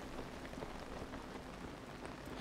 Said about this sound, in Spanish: A ver si amaina un poquito la lluvia,